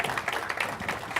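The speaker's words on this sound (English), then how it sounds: "Let's give Jim Shelton a big hand." An audience at a keynote gives a round of applause, steady moderate clapping that carries on evenly throughout without a clear start or end.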